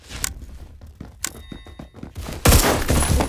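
Gunfire in the Phantom Forces shooter game: a run of sharp shots and thuds, then a loud sustained burst near the end, close and punchy with no talk.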